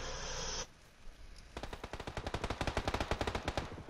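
Rapid automatic gunfire in PUBG, a burst opening briefly before a long, accelerating string of sharp shots rattling close and loud with no talk.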